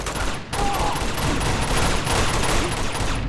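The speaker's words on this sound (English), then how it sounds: "Shit, I'm getting shot at." Dense sustained gunfire from the video game Uncharted 2, a steady barrage of overlapping shots at close range throughout with a brief dip near the start, under a sniper and grenade-launcher firefight.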